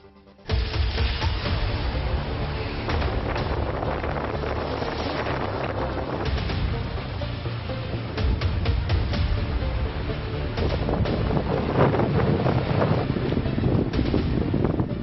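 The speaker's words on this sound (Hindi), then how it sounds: "कहीं तेज हवा" Strong cyclone wind buffets the microphone in a constant, loud roar with a rushing, blustery texture, likely near open water, and no clear voices.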